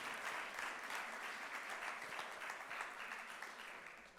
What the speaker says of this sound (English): So give a round of applause for her.